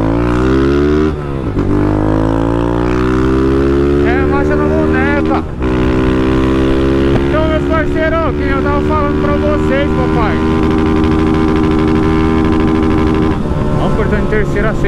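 Honda motorcycle, a 2024 Start, Fan or Titan, revving up through the gears as it rides, loud rising engine harmonics with brief drops at each shift and a rider talking over it.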